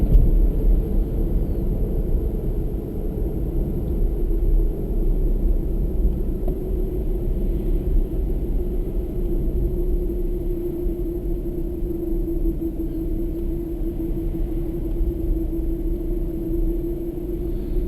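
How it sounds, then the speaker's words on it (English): Snow tyres on a new Toyota Prius driving in Japan give a low steady rumble of road noise inside the cabin, with a sustained tonal whine riding over it throughout. "That whining sound you can hear is the snow tyres."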